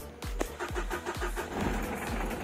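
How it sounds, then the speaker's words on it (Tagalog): A Mitsubishi Adventure's engine being started, several quick cranking pulses in a rapid rhythm close by, catching into a running engine near the end. "paanda rin natin yung sasakyan"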